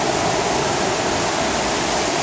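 Düden waterfall roars as a steady, dense wash of falling water, loud and close, filling the whole moment with no voices.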